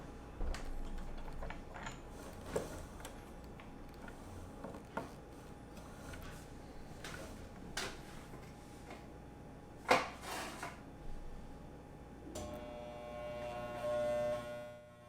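Faint mechanical hum of a sewing machine stitching leather, with short bursts, clicks and a brief reverse run to lock the stitch. It sounds quiet and close.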